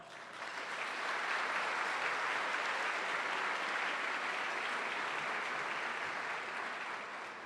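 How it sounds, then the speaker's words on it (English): A warm round of applause from a City Club audience for sponsors, dense and even clapping that fades in, holds steady for several seconds and tapers slightly at the end. "Please join me in a warm round of applause for all of them."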